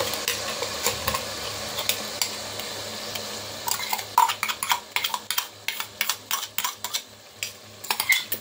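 Coarse-ground masala for a quick biryani frying in a pan, with a soft sizzle under a run of scraping, clinking stirs from a spatula that grow more frequent and sharper in the second half.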